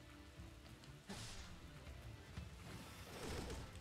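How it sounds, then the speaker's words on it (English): Rain falls in the video game Hyrule Warriors Age of Calamity, a soft steady patter on surfaces with faint whooshes and impacts mixed in, fairly quiet throughout. "Running in the rain."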